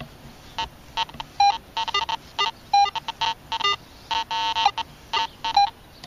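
A Garrett AT Pro metal detector with a 5x8 coil sounds iron targets as short, choppy bursts of electronic tones, alone and at moderate loudness over faint background hiss.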